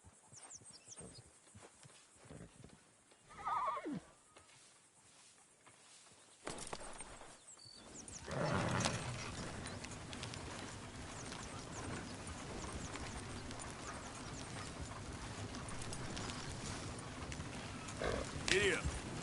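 A horse in a PS4 video game clip-clops along at a steady pace, the hoofbeats growing from quiet and sparse into a continuous trotting rhythm with brief whinnies.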